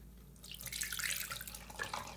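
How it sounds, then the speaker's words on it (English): Vinegar poured over baking soda in a bathroom sink drain fizzes and gurgles, a soft bubbling hiss that swells and fades in brief bursts, quiet and close. "So you still hear those bubbles, that means it's still working."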